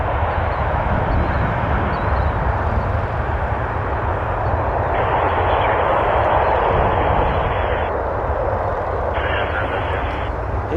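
An Air India airliner departs Toronto Pearson, its engines a broad, steady roar that swells and holds through the whole stretch. The sound is loud and continuous, with radio chatter in the background.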